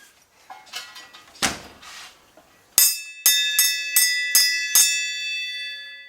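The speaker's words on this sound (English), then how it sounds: "Look who's coming to ring the bell." A bell is struck about six times in quick succession, each blow ringing out clear and bright and then fading, after a few softer clatters and bumps.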